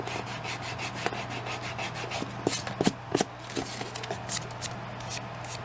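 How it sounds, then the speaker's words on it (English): A rubber eraser scrubbing pencil writing off a plant label, giving soft, close rasping strokes in an uneven rhythm with a few sharper scuffs, steady and fairly quiet with no talking. "You just erase it."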